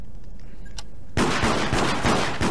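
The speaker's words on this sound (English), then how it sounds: "Stop shooting me." Gunfire in the video game Deceit erupts partway through, a rapid burst of loud repeated shots after a quieter opening with a single faint crack.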